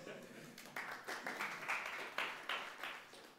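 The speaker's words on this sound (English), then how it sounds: "You may all now applaud." Audience at a programming-language tech talk breaks into applause, a quiet, slightly distant patter of claps building in bursts, with faint voices mixed in.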